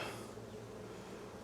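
Honeybees drone steadily in an opened hive during a frame inspection after smoking, a soft continuous buzz that stays faint and even throughout without talk.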